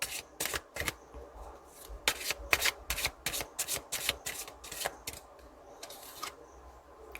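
Tarot cards being shuffled and drawn, with a quick series of close, crisp riffling and slapping bursts in an uneven rhythm.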